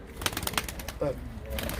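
Pigeons coo in a coop in Ankara, a soft low call rising briefly amid other rustling and chatter, with a person talking nearby.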